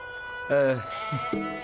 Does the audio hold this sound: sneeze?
no